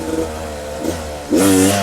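Dirt bike engine revving hard as the rider pulls a wheelie, a steady mid-pitched drone that surges into a louder, rising rev near the end, close and alone.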